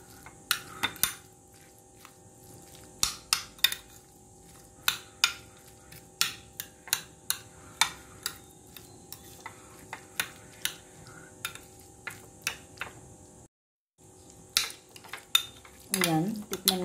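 A spoon clinks repeatedly against a bowl as egg sandwich spread with Lady's Choice mayonnaise is mixed, sharp scraping taps in an irregular rhythm, close and fairly loud, with a brief pause near the end.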